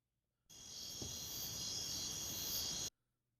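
Cricket chirping sound effect played on a sports radio show, a steady dense insect trill that starts abruptly, holds for about two seconds and cuts off.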